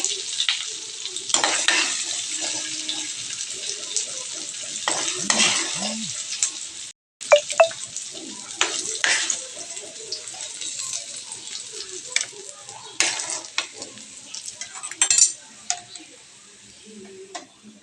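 Paneer pieces frying in a pan, a steady close hiss and sizzle broken by stirring scrapes and a few ticks, with a person speaking over it at times.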